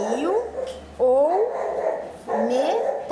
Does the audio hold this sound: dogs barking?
yes